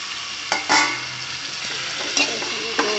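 Kasuri methi and spices frying in oil for a potato and cauliflower sabji, a steady close sizzle with several sharp stirring scrapes of a spoon against the pan.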